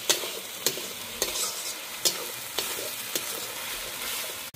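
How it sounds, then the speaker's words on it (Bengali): Spice paste of ground dried red chilli with salt being stirred and fried in a kadai for egg curry, a steady close sizzle broken by sharp regular scrapes of the spatula about every half second. "মশলাটা ভালো করে কষিয়ে নেব।"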